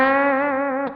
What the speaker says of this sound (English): turn the delay off and the reverb on, now the reverb comes in